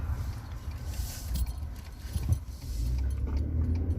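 A car is driven along, with a low rumble of engine and road noise inside the cabin and some faint rattling and jingling over it, growing slightly louder toward the end.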